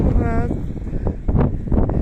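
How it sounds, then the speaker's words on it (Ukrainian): Heavy wind buffets the microphone in rough, rumbling gusts, with a voice faintly talking underneath. "Я трошки прикриваю собою цей вітер, щоб не дуже було вам"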